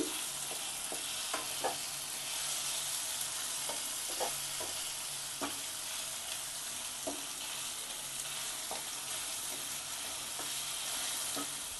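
Spice paste added to tomatoes frying in a pan for chal begun, a constant soft sizzle with scattered scraping stirs and light clinks of a spoon, near and fairly quiet.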